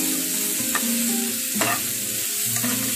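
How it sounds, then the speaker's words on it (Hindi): Vegetables for chowmein sizzle steadily in a hot pan while a utensil stirs and scrapes through them a few times. "अब थोड़ी देर सब्जियों को हम और फ्राई करेंगे।"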